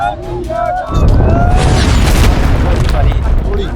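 Gunfire reportedly aimed at protesting farmers at the Shambhu border: a sudden loud burst of booming, crackling reports begins about a second in and continues as a dense, sustained barrage, with people talking and shouting throughout.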